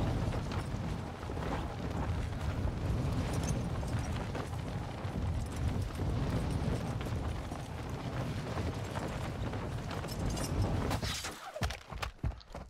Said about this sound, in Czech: Někdo po mě střílí, že jo.